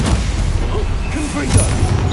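A booming Expulso spell explosion in the Hogwarts Legacy video game, a dense, loud blast of game noise filling the short moment, with voices and game sounds mixed in.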